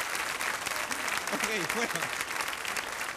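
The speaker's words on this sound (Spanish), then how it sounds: "No aplaudan, luego juntan toda la gana de aplaudir para el final." Comedy show audience applauding with dense broadband clapping throughout, while someone speaks over it.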